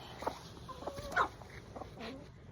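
Faint, sparse clucks from an old hen, a few short soft calls over quiet background noise.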